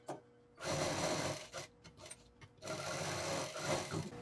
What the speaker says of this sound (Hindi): अब इसको हम एक साइड से डबल फोल्ड करके और सिल देंगे।